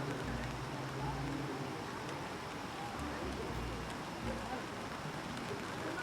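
Steady rain falls across a duck pond in a New York City park, a soft continuous hiss of drops with low rumbling background noise, faint and unbroken throughout.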